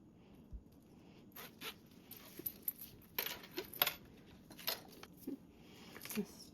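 Zipper being handled on a sewn Pandora Charisma bag, a run of soft clicks, rattles and short zips scattered irregularly at close range with no one speaking.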